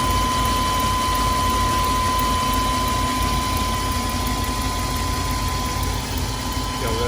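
A Chevy Express van with a 4.3 engine idles steadily after a fuel injector install, a constant close rumble with a faint high whine, unchanging throughout.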